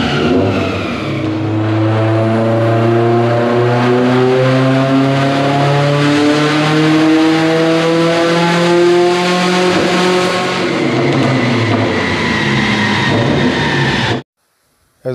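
A 2018 Subaru WRX STI tuned for more boost roars through a full dyno pull, engine pitch climbing steadily for about thirteen seconds, loud and close, before the fuel cut abruptly silences it.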